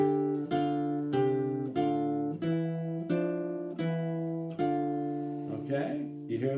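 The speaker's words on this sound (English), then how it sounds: "polyphonic music as it develops with more independence or oblique motion" Medieval polyphonic music around 900 to 1,000 showing oblique motion: a sustained lower voice holds while a distinct upper line moves in repeated sung or played phrases, steady and moderately loud, with no speech over it.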